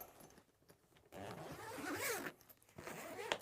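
A zipper drawn open on a camera bag, one long rasping pull followed by shorter tugs, close and fairly quiet.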